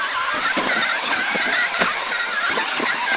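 Traxxas X-Maxx 8s RC truck with a brushless motor and open diff climbing a slope, a steady high electric whine with rough scrabbling bursts, close and loud throughout.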